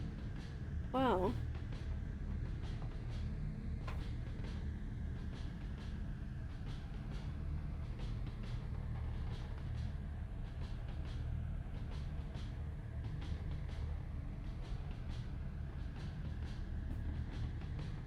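Train riding along in the video game What Comes After: a steady low rumble and rolling rattle that runs the whole stretch, with a brief chirp near the start and voices talking faintly over it.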